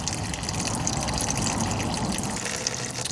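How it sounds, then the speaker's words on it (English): Coolant drains steadily from the expansion tank of a BMW E-series car, a continuous close splashing trickle with no pauses or voices. "So let's go ahead and let it drain."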